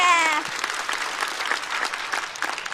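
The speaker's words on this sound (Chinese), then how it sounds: "在此掌声送给小静" A stand-up comedy audience breaks into warm, sustained applause, a dense wash of clapping that fills the room, with a short spoken phrase over its opening moment.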